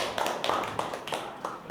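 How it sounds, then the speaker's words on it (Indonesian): Scattered clapping from a small group of students in a school classroom, a handful of uneven claps spread out over a couple of seconds, fairly faint with no talk over it. "tepuk tangan untuk kita semua."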